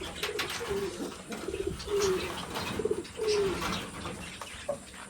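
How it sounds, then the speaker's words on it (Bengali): Fantail pigeons coo in a series of soft, low, rolling calls repeated every second or so, close by over a busy background murmur. "লক্ষা, বা আমাদের এখানে ময়ূর কবুতর বলে।"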